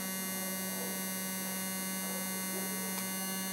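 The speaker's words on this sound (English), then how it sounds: "I'm gonna turn on the smoker and then light the chips." A handheld smoking gun food smoker runs with a steady low electric motor hum, faint and continuous throughout.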